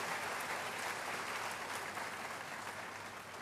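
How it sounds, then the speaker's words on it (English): Graduates and guests at a university congregation ceremony give sustained applause, a broad dense clapping from a large audience that tapers slightly toward the end. "So I ask you to give them a round of applause"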